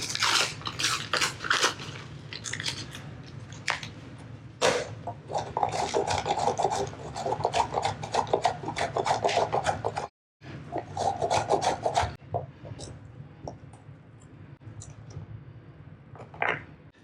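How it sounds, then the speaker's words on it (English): Cold vegan butter is grated on a metal grater, giving close, rough rasping strokes in quick bursts, with a brief break midway and sparser scrapes toward the end. "we're gonna work really quickly and grate this butter"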